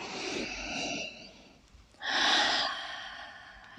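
A breath drawn in during a gentle yoga flow of bending the knees and gathering, audible as a soft airy intake after quieter breathing, close and fairly faint with no speech over it.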